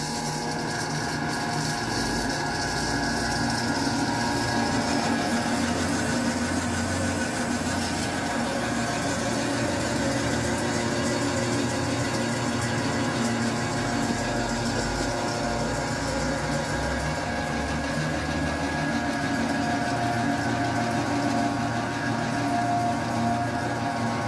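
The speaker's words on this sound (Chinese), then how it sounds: "看一下这个新款的300颗粒机到底能不能加工" A new model 300 feed pellet machine runs on corn cobs and dry hay, holding a steady low mechanical drone with a constant hum and no pauses.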